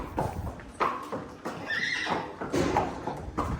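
A mare neighs and whinnies loudly and close by over steady outdoor noise, with hoof clip-clops and shuffling around the call.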